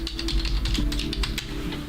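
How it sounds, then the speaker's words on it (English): Fingers tap quickly on a computer keyboard, a dense run of close, crisp key clicks with no one speaking over them. "I'm typing in Topps Linkin Park."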